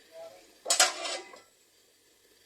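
A lid knocks onto a pot of chicken pulao with one clattering metallic clink and a short rattle, and the room goes quiet afterward.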